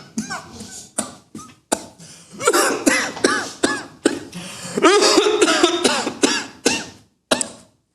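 Repeated harsh coughs in bursts, some drawn-out and rasping, with short pauses between fits and a throat clearing near the end.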